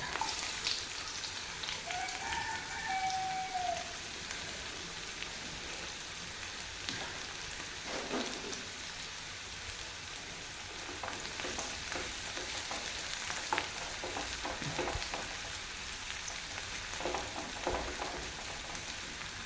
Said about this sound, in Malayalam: നമ്മൾ ഫ്രൈ പാൻ ഇവിടെ എണ്ണയൊക്കെ നന്നായി ചൂടായി വന്നിട്ടുണ്ട് ഇനി നമുക്കിതിലേക്ക് അരിഞ്ഞു വെച്ച് സവാള ഇട്ട് കൊടുക്കാം